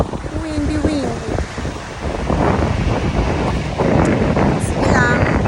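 Strong wind buffets the microphone outdoors by the water, gusting and roaring louder toward the end, with waves faintly beneath. A person's voice is heard early on.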